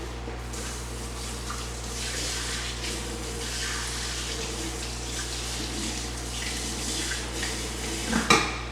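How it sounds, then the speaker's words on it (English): A dish or pot rinsed under a running tap, a steady rush of water with light clatter, ending in a couple of louder knocks of cookware near the close. "Give this a quick rinse."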